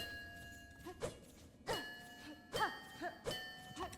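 Soft, clear bell chimes in the video game Hollow Knight: Silksong ring out several times at uneven intervals, each a bright tone with a brief ringing decay over a faint background.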